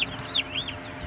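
Young turkeys clucking and peeping nearby, a few quick rising chirps in close succession over quiet background.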